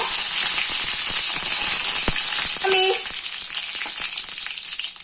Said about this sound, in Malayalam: നമുക്കിതിലോട്ടേക്ക് കറിവേപ്പില ഇട്ട് കൊടുക്കുന്നുണ്ട്.